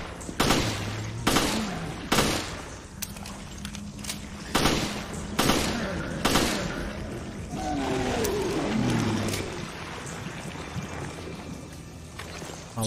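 Gunfire in Resident Evil Revelations: several heavy, spaced gunshots, some in quick pairs, with echoing tails over a low droning ambience and a warbling creature-like sound midway, and no talking.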